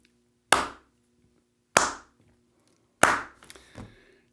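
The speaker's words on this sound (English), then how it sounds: "That just requires a slow clap." A slow clap: three sharp, separate hand claps spaced more than a second apart, close and distinct in an otherwise quiet room, the last one trailing into a little faint rustling.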